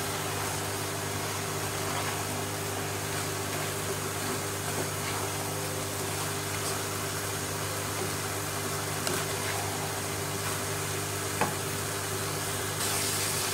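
Grated carrots for gajar ka halwa being stirred together with desi ghee in a pan, a faint, steady sizzle and soft stirring under a constant low hum.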